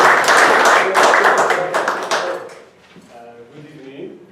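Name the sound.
audience applause at a Toastmasters meeting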